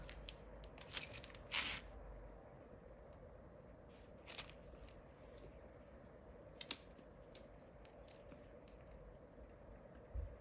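Scissors snipping stems on a potted chilli plant, a few quiet, brisk cuts spaced apart with soft crackling rustle of foliage between them, close but faint.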